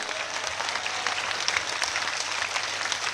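A large crowd at a political rally of a Thakor community organisation in Banaskantha, Gujarat, claps loudly and continuously, a dense unbroken roar of applause.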